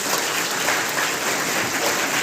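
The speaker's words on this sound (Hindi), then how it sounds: "चलो ताली बजा दो सब इसके लिए" Students at a motivational session on overcoming exam fear clap together, giving dense, steady applause that stays loud and even throughout the short stretch.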